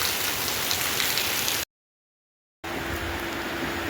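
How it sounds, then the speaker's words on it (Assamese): Heavy, continuous downpour roaring close by at a historic namghar in Golaghat, Assam, cut to complete silence for about a second before the rain resumes. "ইমান বৰষুণ দি আছে, ভালদৰে দেখাব নোৱাৰি"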